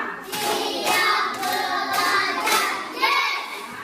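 Children clapping hands together in a classroom, a rhythmic series of fairly loud, bright claps in repeated bursts with roughly half-second spacing, close by and continuous throughout.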